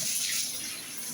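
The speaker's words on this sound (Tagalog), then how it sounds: "Lalagyan po natin siya ng tubig." Water poured into a pot of chicken afritada simmering with red pepper, a brief, faint gushing splash lasting just over a second.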